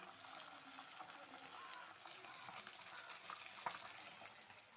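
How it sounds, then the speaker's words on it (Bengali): Fish fries in a pan in a home kitchen, giving a continuous, moderately quiet sizzle with faint clinks and a brief sharp knock near the end. "আর এইদিকে চাপিয়েছি মাছ ভাজা"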